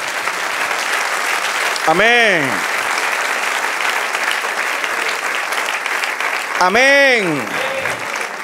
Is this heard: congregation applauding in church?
yes